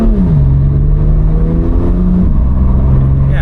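A BMW M2 Competition (F87) engine pulling loud and close, its steady drone stepping down in pitch as the gearbox short shifts through the gears.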